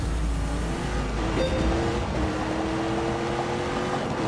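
A 1,000-horsepower Hennessy-tuned Chevrolet Camaro engine drones steadily as the car drives, its engine tone rising in pitch beneath heavy rushing wind noise throughout.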